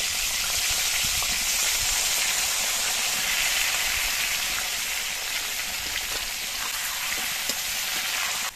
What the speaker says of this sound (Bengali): এবার এই তেলের মধ্যে বেগুনগুলো দিয়ে আমি ভেজে নেব।